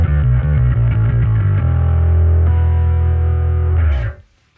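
Electric bass played through a distortion pedal and a Super Symmetry compressor, loud gritty sustained notes with a few quick plucked changes before a held tone that cuts off abruptly into silence.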